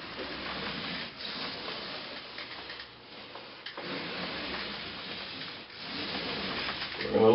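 A paint roller with a microfiber sleeve lays paint on a wall, giving a soft, continuous rubbing swish in repeated strokes with brief pauses between passes, close and fairly quiet.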